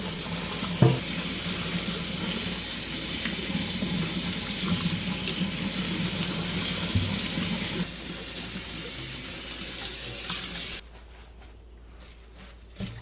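Kale being washed under a running kitchen tap, a steady rush of water into a sink that gets softer near the end.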